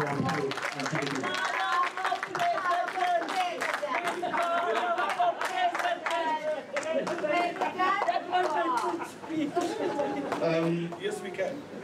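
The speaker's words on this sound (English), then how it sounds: "A round of applause to our panel." Audience at an arts management panel discussion clapping, scattered applause mixed with crowd chatter and voices, moderately loud and sustained.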